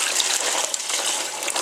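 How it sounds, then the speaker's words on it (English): Water pours steadily over a dirty rock being rinsed clean for a DIY aquaponics fish tank setup, a continuous close splashing gush with no talk. "the very first step is rinsing the rock"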